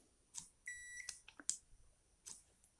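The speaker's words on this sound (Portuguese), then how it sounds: "bipou, deu um bip, parou, tá bom." A multimeter on continuity setting probing a capacitor in a TV power supply, giving a short, faint electronic beep among small clicks and handling taps, close and quiet.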